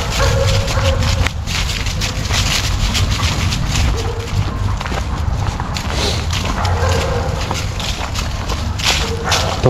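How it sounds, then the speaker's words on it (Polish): Rustling crunch of a dog's paws padding through dry autumn leaves, steady and close, with soft irregular footfalls throughout. "Te odgłosy łap na liściach."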